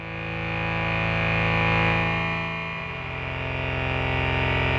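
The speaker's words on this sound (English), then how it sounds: "let's give this some delay." A sustained, distorted Roland S-1 synth pad holds a dense chord, with repeating delay echoes smearing the tone as it swells and then settles, no voices present.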